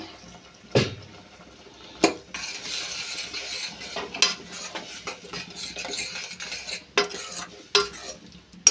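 A spoon stirs tomato and onion paste in a pan for a fish curry, giving soft wet scraping and a faint sizzle. Sharp knocks of the spoon against the pan come every second or two.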